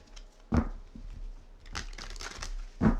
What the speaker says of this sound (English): it's kind of like a vinyl-y deck, so it makes a bit of noise when you shuffle it